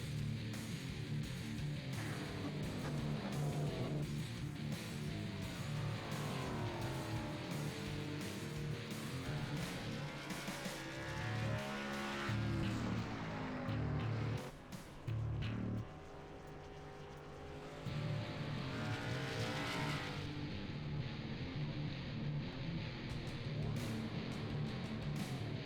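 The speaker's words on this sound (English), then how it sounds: "We're just letting y'all listen to the sights and sounds of these cars and qualifying here." ARCA Series race cars lap Myrtle Beach Speedway in qualifying, engines roaring continuously and rising and falling as the cars pass, with a brief lull before the loud roar returns; no one speaks.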